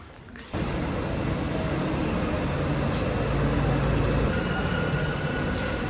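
A metro train passing, a loud steady rumble and rush of wheels that rises abruptly after a quiet start and holds close for several seconds.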